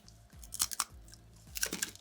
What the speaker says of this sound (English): Hope you guys don't have a loose tooth because it's real crunchy.